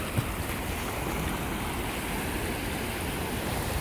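Ocean waves at a beach in Sri Lanka, a steady, broad wash of surf filling the background at an even level, without voices.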